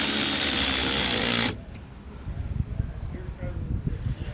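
A power tool snugs bolts on a bracket for a Blue Ox KarGard protective tow shield, whirring loudly for about a second and a half before cutting off abruptly, followed by quieter handling sounds and a voice.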